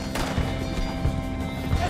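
Horses in Red Dead Redemption 2 gallop with quick, irregular hoof clops and an occasional whinny. The sounds are close and fairly loud amid game noise and a voice.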